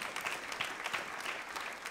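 A church congregation claps together during a service, a fairly even wash of many hands heard at moderate distance, fading neither up nor down across the short stretch.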